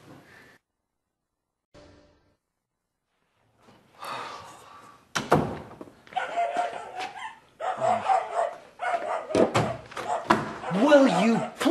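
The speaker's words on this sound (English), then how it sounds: "Will you please be quiet? Stop barking!" A dog barks several times in sharp bursts, mixed with talking voices and a thud like a door, fairly close and loud.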